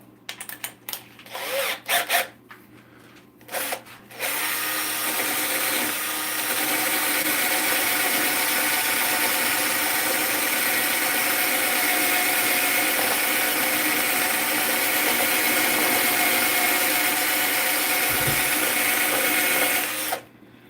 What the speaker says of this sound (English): I may need to get a faster drill.